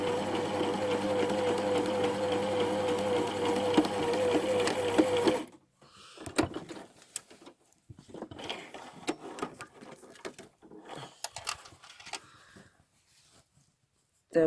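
A sewing machine stitches slowly over pinned fabric, running in a steady close mechanical whir for about five seconds before stopping, followed by quiet handling clicks and rustles.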